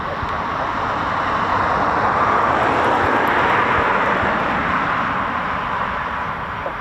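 An RAF Eurofighter Typhoon FGR4 fighter jet goes around, its engine roar a loud, steady broadband rumble that swells slightly mid-pass and holds throughout with no talking.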